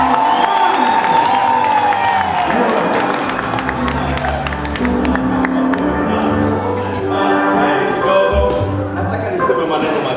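Wedding guests applaud and cheer for the newly announced couple, a dense, steady crowd roar with claps and whoops that continues throughout, mixed with voices.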